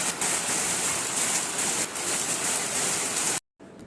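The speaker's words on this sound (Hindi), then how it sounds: "यहाँ हो रही है झमाझम वाली बारिश।" Heavy rain pours in a constant loud hiss, close and unbroken, until the sound cuts out abruptly near the end.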